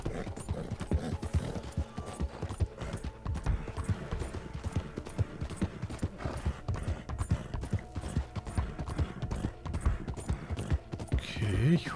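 Horse hooves clop steadily at a quick riding pace in the Red Dead Redemption 2 video game, a close rhythmic beat running throughout, with someone talking over it and a brief whinny near the end.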